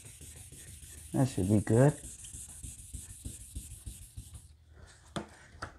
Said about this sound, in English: I'm coming back with 2500 grit and smoothing it out